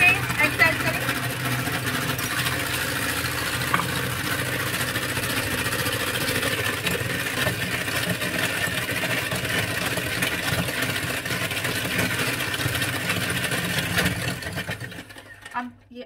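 An electric mixer runs steadily at medium-high speed, blending banana bread batter with a continuous whirring motor hum that is loud and close for about fifteen seconds before it winds down and stops.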